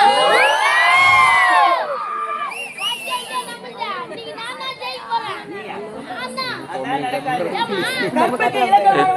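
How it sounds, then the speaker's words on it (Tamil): A crowd at a village street-theatre performance shouts a loud, sustained 'O' cheer, followed by excited chatter and children's shouts continuing underneath. "ஜோரா ஒரு ஓ போடுங்க பார்க்கலாம் சத்தமா"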